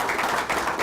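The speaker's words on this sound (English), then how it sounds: "If you could give them a round of applause for" Audience applause for city council members at a stadium-naming press conference: a brief, dense wash of clapping, steady and moderately loud with no voices over it.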